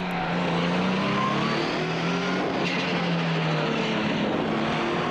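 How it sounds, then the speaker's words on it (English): A hybrid Ford Escort rally car races past on a slippery tarmac rally stage in New Zealand, its engine a loud, sustained drone that holds steady and close throughout with no voices. "Clark Proctor as good as his word in the hybrid Escort"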